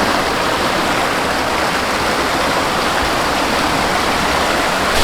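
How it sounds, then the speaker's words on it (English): A waterfall in the Tasmanian bush gives a steady, dense, broadband rush of falling water, close and unbroken throughout, with no voices over it. "Beautiful waterfall down here"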